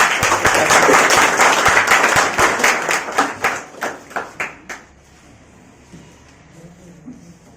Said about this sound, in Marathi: आपण त्याचं टाळ्या वाजून स्वागत करू